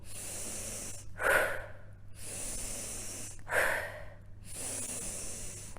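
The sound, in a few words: natural, non-intense exhaling in a breathing exercise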